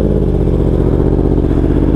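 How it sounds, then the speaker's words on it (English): A 2022 Yamaha R1M motorcycle engine runs loud and close after starting, a steady low rapid-firing idle rumble with no talk over it. "Let's go ahead and start it up."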